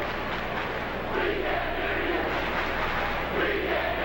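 A high school student section chants at a New Trier versus Highland Park basketball game in Peoria, a dense, steady roar of many voices filling the gym.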